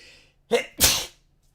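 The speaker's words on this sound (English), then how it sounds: "I feel like sneezing." A single close sneeze, a short inhaled catch followed by a loud explosive burst, then silence.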